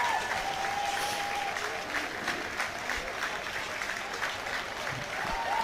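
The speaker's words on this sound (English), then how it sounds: "Gladiators giving the Sandwell Steelers a clap" Colchester Gladiators players applaud the Sandwell Steelers at a Division 2 final medal ceremony. Their clapping is sustained and even, with crowd murmur and faint whistles mixed in.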